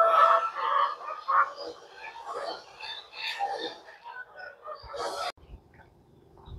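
Chickens cluck and crow in a busy yard while a person talks over them, the birds fairly close and steady throughout.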